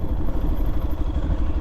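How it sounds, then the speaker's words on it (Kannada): A motorcycle engine idles steadily with the throttle off while the bike coasts downhill on brakes, a close, continuous low rumble mixed with wind and road noise. "just break and engine on ಮಾಡ್ಕೊಂಡಿದ್ದೀನಿ"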